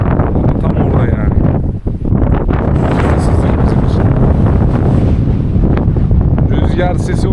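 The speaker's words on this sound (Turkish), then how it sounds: "Rüzgar sesi umarım rahatsız etmiyordur sizi." Heavy wind buffeting a microphone on Spil Mountain peak, a loud continuous rumbling roar with one brief dip, filling the whole stretch.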